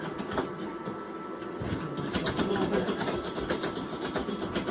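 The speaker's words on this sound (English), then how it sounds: "I'm hitting it with a super fine wire brush here" Fine wire brush scrubbing fresh MIG welds on metal, a steady close rasping scratch with a dense gritty texture that holds continuously throughout.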